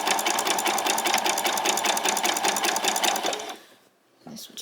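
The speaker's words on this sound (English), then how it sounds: "I'm going to do a back stitch and right the way to the end now." A sewing machine runs a back stitch along an apron, its needle hammering in a steady rapid rhythm close up for several seconds before stopping abruptly, with a short faint rustle of fabric afterward.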